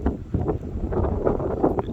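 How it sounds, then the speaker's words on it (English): Strong wind on a beach buffets the microphone in a continuous, loud, close roar with gusty swells and no talking. "know y'all hear the wind."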